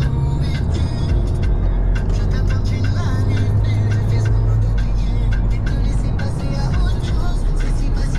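A Cupra car pulls out and overtakes a slower vehicle doing about 70 on an open road, its steady engine drone and road roar filling the cabin continuously, loud and close throughout, with no clear acceleration surge standing out.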